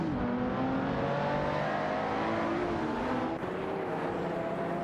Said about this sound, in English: The battle for 20th place is intensifying between Finamluki in a TVR Tuscan S and Manamai Speter and Romans in a Porsche 911 997 Turbo.